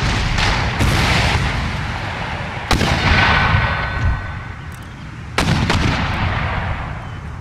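Cannon fire in the video game Empire Total War, Darthmod, Russian campaign battle against Britain: loud booming shots, several heavy reports and a few sharper cracks, over a continuous rumbling battle din with no talking.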